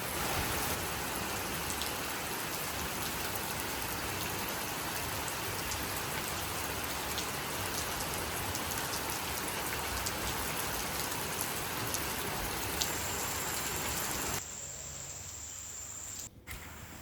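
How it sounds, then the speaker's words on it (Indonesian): Heavy rain falls at night on Liki Island, Papua, a dense, steady hiss of drops on surfaces that holds for a long stretch and then drops away sharply near the end, leaving quieter drips and a faint high insect tone. "Hujan yang turun di malam itu tak kunjung berhenti"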